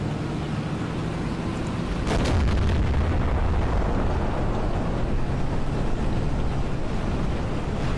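A HEAT shell fired from a gun, a heavy boom that swells into a continuous loud roar and rumble lasting several seconds.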